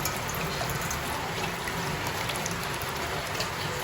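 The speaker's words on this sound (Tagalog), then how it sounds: "Malakas po ang ulan ngayon. Rinig na rinig ko." Heavy rain falls steadily and loudly on a surface, a dense continuous hiss with constant drop texture throughout, no voices.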